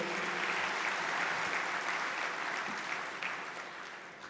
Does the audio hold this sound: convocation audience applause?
yes